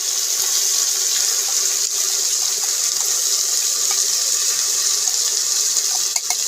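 Water poured into a pan of ground masala paste with garlic and onion for chicken curry, a loud continuous hiss and splash of pouring liquid that runs steadily with no break and no talking.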